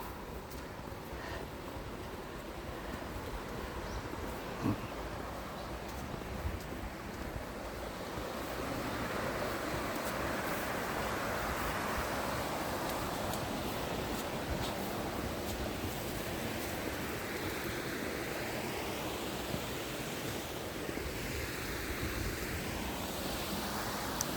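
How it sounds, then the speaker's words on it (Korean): Rushing water at Cheonjiyeon Falls, a steady broad roar with no speech, rising slightly in strength partway through. "물소리가 아주 시원하게 들립니다"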